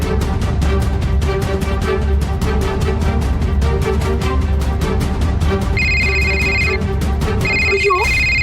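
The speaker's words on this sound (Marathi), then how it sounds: "विश्वापतचा फोन" A telephone rings loudly and insistently in a dramatic scene, with repeated electronic ring bursts and a brief pause before the ringing resumes near the end.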